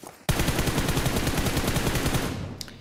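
Rapid automatic gunfire from a PUBG Mobile match erupts abruptly and keeps going in a dense, fast-repeating burst for over two seconds, loud and close, before easing off with a couple of faint trailing clicks.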